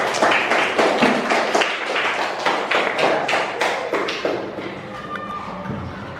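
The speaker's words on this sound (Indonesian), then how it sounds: "Kita berikan tepuk tangan untuk presentasi yang pertama" Classroom audience claps for a student group's first presentation, a dense patter of hand claps through the first few seconds that thins and fades toward the end, with murmuring voices underneath.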